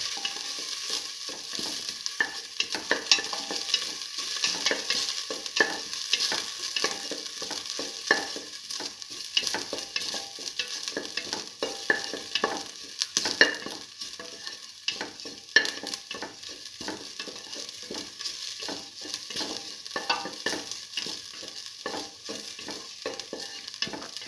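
Ginger and shallots stir-fry in a hot pan for a scrambled egg and split pigeon pea stew, giving a continuous close sizzle broken by constant scraping and tossing, with no talk.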